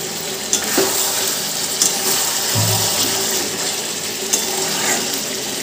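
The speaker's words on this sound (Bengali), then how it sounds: "এর মধ্যে আমি এবার গরম করে রাখা জলটা দিয়ে দেবো।" Hot water poured into a simmering chicken and potato curry, a short splashing pour amid steady sizzling and occasional stirring clinks, with no talking.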